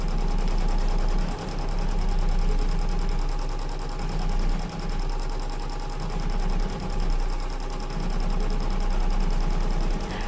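A sewing machine quilts through the layers of a fabric sunglasses cover, running in a loud, steady, close stitching drone that holds without a break.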